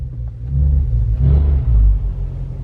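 An Audi RS7 engine on 93-octane fuel rumbling as the throttle is pressed, with deep low swells rising and falling in a few surges, close and loud, no voices.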